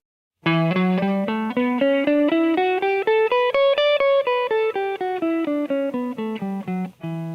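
An electric guitar plays an E Dorian scale note by note, climbing steadily upward and then descending back down in an even rhythm, clean and distinct.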